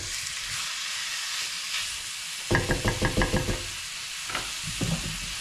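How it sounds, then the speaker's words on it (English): Chopped garlic sizzles with a steady hiss in a frying pan throughout, broken midway by a quick series of knocking taps like a utensil against the pan. "add some chopped lazy garlic in here now while this is sizzling away"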